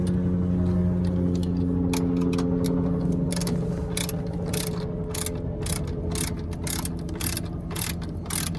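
A ratchet socket tightens an exhaust V-clamp on a 2015 Tiffin Phaeton 36GH motorhome with an ISL9 Cummins diesel, giving a long run of rapid, regular clicks close by over a steady low engine or machinery drone.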